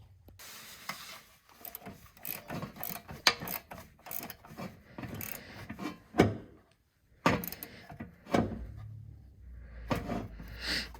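A ratchet tightening the final starter bolts on a 1997–2004 Corvette C5 Z06, with bursts of rapid clicking separated by pauses and occasional clunks of metal, close up and fairly quiet.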